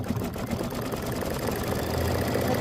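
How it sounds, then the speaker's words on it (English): A sewing machine stitching a quilt block, its needle running in a fast continuous mechanical whir that stays steady and close for the whole stretch. "And this is 4 minutes of stitching."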